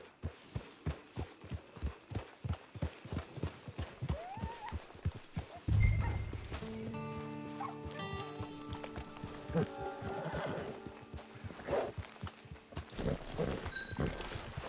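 Horse hooves clip-clop in a steady walking rhythm, close and clear, then a horse gives a loud whinny partway through, set in the Red Dead Redemption 2 video game's open range near a camp; a soft tonal background hum follows.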